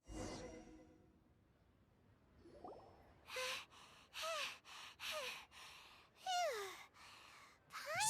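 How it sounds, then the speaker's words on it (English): Breathy panting and sharp gasps from a Genshin Impact character, several short bursts in quick succession with rising and falling vocal tones, moderately loud after a quieter opening stretch. "So much panting in all this."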